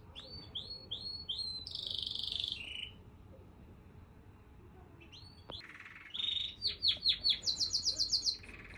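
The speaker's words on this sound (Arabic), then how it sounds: "سامحوني انا سايباكم طبعا مع العصفور يزعج فيكم" A small pet bird chirps indoors in bursts of high, quick tweets, pausing for a few seconds before a faster run of repeated chirps, fairly faint against a quiet room.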